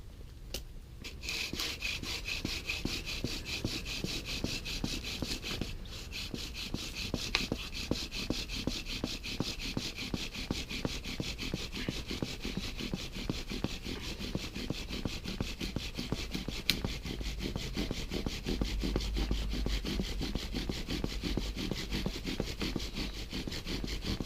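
A bow drill with a composite weed spindle rubs against a wooden fireboard, driven by a bow strung with natural cordage. Steady back-and-forth rasping strokes repeat evenly and close up, with no talking.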